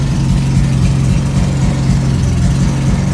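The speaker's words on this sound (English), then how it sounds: "Right off the bat, the idle is a lot better than before." A car engine idles steadily after a cold start on freshly fitted new injectors, a constant low rumble that runs close and loud for the whole stretch with no revving.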